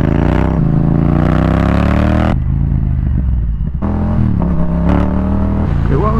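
A Yamaha XSR700 motorcycle with an Akrapovic carbon exhaust rumbles loudly and steadily up close, its engine note rising and falling as the rider accelerates and eases off, under constant wind buffeting.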